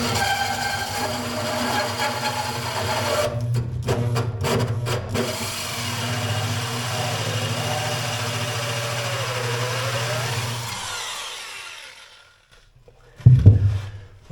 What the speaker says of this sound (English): I don't drill all the way through, I just get it started